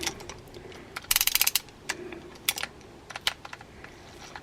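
A secondhand fishing reel's clicker ratchets in quick bursts of sharp ticks, with a dense rapid run followed by scattered shorter clicking spurts, close and crisp.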